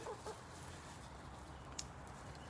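Chickens in a backyard coop give a few faint clucks early on against quiet outdoor background, distant and soft, with no talking.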